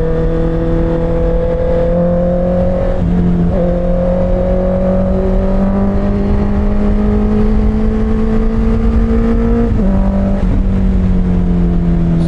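A Honda CBR650R motorcycle accelerates hard on the road, its engine whine climbing through the gears with brief dips at each shift, loud and close from the rider's position over wind noise.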